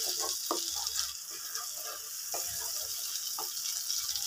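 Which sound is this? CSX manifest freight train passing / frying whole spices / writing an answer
frying whole spices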